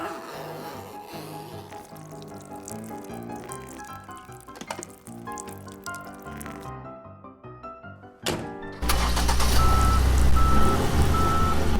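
Steady reversing beeps repeat over a low engine hum, followed by a heavy thunk and a loud burst of rushing noise at the end.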